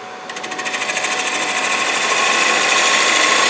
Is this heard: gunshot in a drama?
no